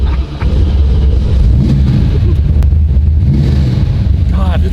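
Close, loud engine rumble from a Dodge Dart muscle car revving while parked, with a dog inside; heavy low drone throughout with wind buffeting, no clear separate blips.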